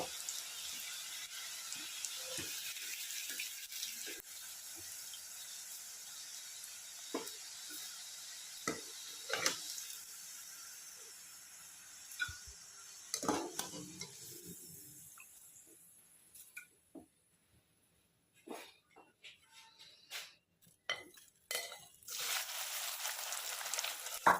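Steady hiss of potato fries frying in oil with scattered pops and crackles; the sizzle thins out and turns quieter and spottier toward the end.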